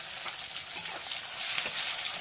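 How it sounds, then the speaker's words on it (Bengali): Chopped onion, one large onion, frying in hot oil in a pan during preparation of aar fish curry, a steady close sizzle with faint stirring scrapes throughout, no voices. "পেঁয়াজটাকে ভালো করে ভেজে নেব"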